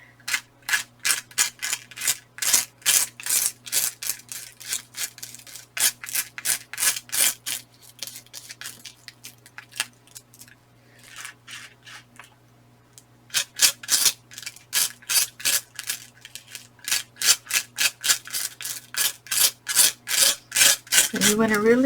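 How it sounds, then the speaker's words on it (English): Glitter is scraped across a cardstock scrapbook layout in quick, rhythmic rasping strokes, close and fairly loud, with a short pause midway before the scraping resumes. "you want to really scrape the top and get that glitter in there"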